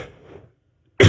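A single loud, harsh cough bursts out at the very end, preceded by faint low murmuring and then a stretch of near silence.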